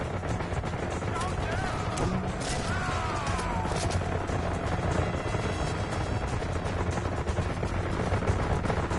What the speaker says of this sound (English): Ah, great! They've got a chopper!